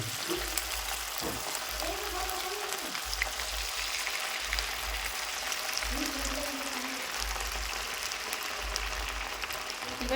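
Gobi 65 cauliflower pieces frying in hot oil on a gas stove at medium flame, a steady dense sizzle and bubbling throughout, with faint voice-like sounds in the background.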